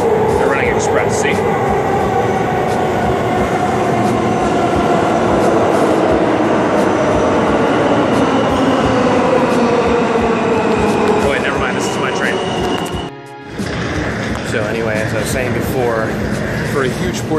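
Loud, sustained roar and screech of a New York subway train running express from Queens toward Manhattan, with rising and falling whines and a brief dropout near the end; voices murmur underneath.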